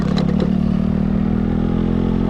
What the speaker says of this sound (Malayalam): that is because something is loose on the left side behind